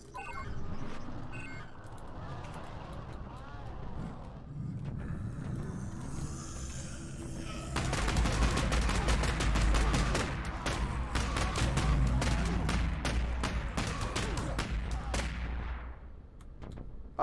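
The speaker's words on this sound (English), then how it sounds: "Just shoot at it, of course." Rapid gunfire in the video game 2084: a low mechanical rumble in the background is followed by dense, sustained bursts of shots that fill most of the second half.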